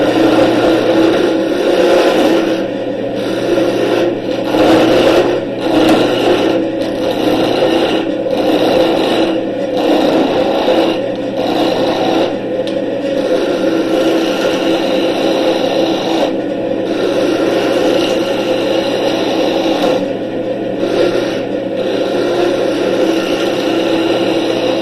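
A roughing gouge cuts a spinning wood blank on a wood lathe, producing a loud, continuous rasping scrape over the motor's hum, pulsing in short strokes as the tool moves along the rest.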